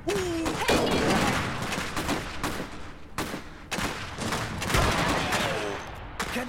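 Sustained gunfire in the World War I-style strategy game Iron Harvest, dense volleys of rifle and machine-gun shots cracking at varied distances, with brief shouted voice lines from soldiers in the mix.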